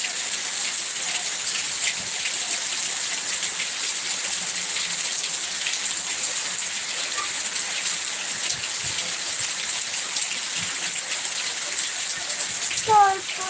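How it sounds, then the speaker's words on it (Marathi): Heavy rain pours steadily in a village after a night of downpour, a dense, even hiss of drops drumming on surfaces and running water, continuous and close throughout, with a brief brighter splash near the end. "जवळजवळ अर्धा तास झाला पाऊस पडतोय बघा पाणी वाहायला लागला"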